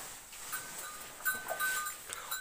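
Buffalo and a young buffalo stand in a hillside cowshed, making faint, brief animal calls over quiet barn ambience.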